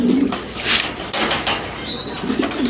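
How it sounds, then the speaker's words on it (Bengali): Fancy pigeons for sale, a pair including tiger-coloured birds, give low throaty coos at the start and end, close by, with faint rustling and clatter between. "আরেক জোড়া কবুতর মাশাআল্লাহ"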